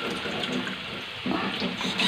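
Water runs from a kitchen faucet while vegetables cook, a short, fairly close gushing stream that swells slightly toward the end, with no speech.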